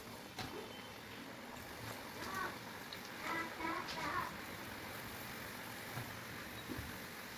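Muthiya dumplings deep-frying in hot oil: a faint, steady hiss and crackle of sizzling runs throughout, with a person talking over it.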